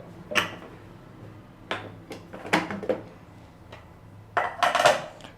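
A pressure cooker lid being opened after cooking empty salna in a home kitchen, heard as a series of close metallic clanks and scrapes in separate bursts, with no talk.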